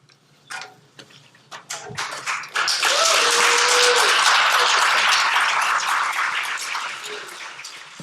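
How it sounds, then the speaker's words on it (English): An audience breaks into applause after a few scattered claps, building into a dense, sustained clapping that swells and then slowly thins out toward the end. "Can we just give another round of applause for those beloved brothers?"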